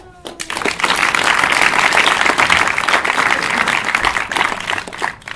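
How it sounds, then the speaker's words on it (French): An audience at a startup demo night gives a sustained round of applause, dense clapping swelling quickly and holding loud for several seconds before tapering off. "Pour ce dernier projet, un round d'applaudissements."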